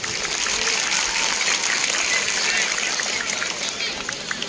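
Audience at a Republic Day ceremony in Şile applauding, a steady hissing wash of many hands clapping at a distance, even and sustained for the whole stretch.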